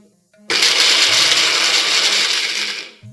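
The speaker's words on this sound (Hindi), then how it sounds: "अभी नारियल को एकदम अच्छा सा ग्राइंड कर देना।" A mixer grinder whirs loudly into action after a short pause, grinding coconut into paste with a steady high-pitched roar for about two and a half seconds before spinning down.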